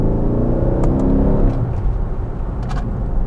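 A Mercedes-AMG E63 wagon with a standard exhaust revs up close, a deep rising engine note that eases back into a lower rumble, with a few faint clicks over it.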